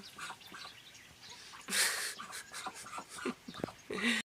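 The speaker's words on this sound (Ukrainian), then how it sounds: "Це ця качечка, що з Івано-Франківська." A duck quacks several times in short, raspy bursts amid other farmyard bird noises, fairly faint and close by.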